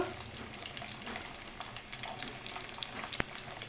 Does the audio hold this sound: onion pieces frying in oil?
yes